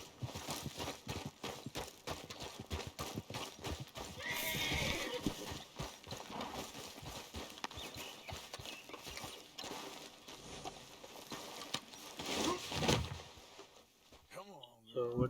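A horse in the open-world Western game Red Dead Redemption 2 trots with steady clip-clop hoofbeats, then gives a brief neigh near the end, all faint under game ambience.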